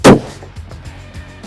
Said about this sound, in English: like I'm shooting here, the bolt action